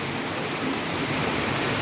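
A mountain waterfall in Duki, Balochistan, roars as a dense, continuous broadband rush of falling water heard up close, with no voices over it.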